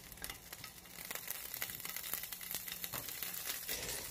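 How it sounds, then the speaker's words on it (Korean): Sausages fry in olive oil in a hot pan, giving a steady crackling sizzle full of quick pops and spits and holding at a moderate, even level throughout. "팬을 가열시킨 후 올리브오일을 붓고 소세지를 올립니다"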